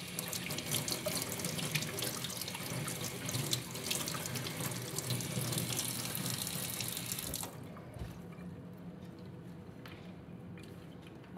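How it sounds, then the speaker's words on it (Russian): Cold tap water runs steadily into a sink while a piece of raw salmon is rinsed before salting, a loud, close, continuous splashing stream that drops to a softer, thinner flow for the last few seconds. "Его сперва обмываю в холодной воде."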